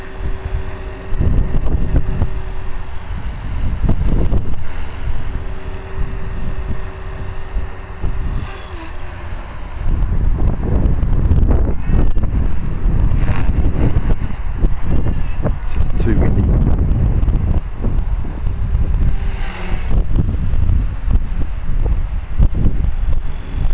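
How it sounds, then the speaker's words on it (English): Wind buffets the microphone outdoors, blowing straight toward it as a loud, continuous low rumble with gusty surges across the whole clip. "The wind's coming directly towards me."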